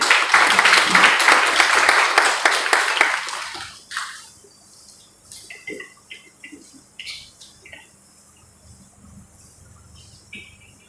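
Audience applause in a college auditorium during a Premchand Jayanti function, dense and steady clapping for about four seconds before dying away, leaving scattered faint claps and small room noises.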